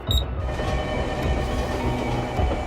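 A train arriving at a station, used as a radio sound effect, gives a continuous heavy rolling rumble with a faint rhythmic rail clatter, preceded by a brief bright chime at the start.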